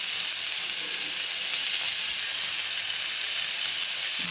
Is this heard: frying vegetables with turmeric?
yes